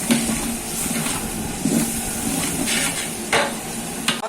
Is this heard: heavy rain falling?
no